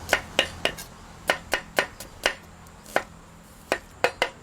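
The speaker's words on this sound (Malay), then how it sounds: "Bawang besar pun kita akan potong juga ataupun kita akan hiris dia nipis-nipis" Knife chopping an onion on a board at a camping cookout: crisp, separate thwacks in uneven bursts, about a dozen strikes with short gaps, close and clear.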